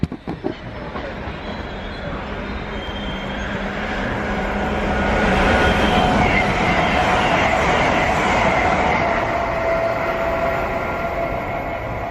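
An express train passes at Ealing Broadway, a rising rush of wheels and rail noise that swells to a loud, steady roar with faint clicking and a high whine, close and sustained.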